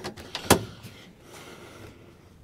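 The faulty door of a 1971 Dodge Coronet Custom sedan clunks and rattles open, with a few sharp metallic clicks and one loud latch snap, followed by faint creaking.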